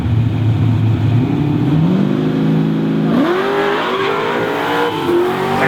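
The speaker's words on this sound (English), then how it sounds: "Patrick, wheel stands right into some tire spin" Loud drag race cars launch off the starting line in a street shootout, one pulling a wheel stand into tire spin. Engines roar and climb steeply in pitch through the gears, with no voices.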